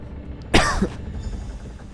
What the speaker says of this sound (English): I have a stupid cough